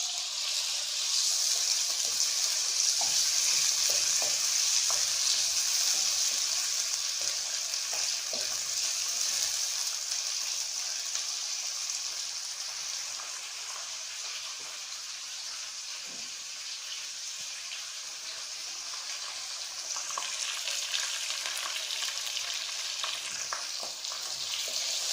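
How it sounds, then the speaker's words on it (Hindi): Chicken frying in about a cup of hot oil in a pot, a steady dense sizzle and crackle with occasional stirring clatters, close and continuous throughout. "चिकन को अच्छे से फ्राई कर लेना है।"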